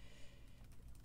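Keys clatter on a computer keyboard as someone types in a quiet room, a short run of soft, quick taps.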